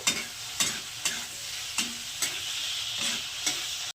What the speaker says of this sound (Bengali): এখন আমি যে টমেটোটা কেটে রেখেছিলাম সেটাকে একটু দিয়ে দিলাম তো সেটাকে একটু হালকা সাপড়ে নেব